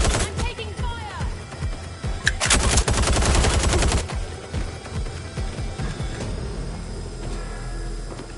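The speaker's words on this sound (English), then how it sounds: "I'm taking fire." Rapid bursts of automatic gunfire and scattered single shots in the Watch Dogs Legion video game, loudest in a dense volley midway, with a voice speaking over the combat.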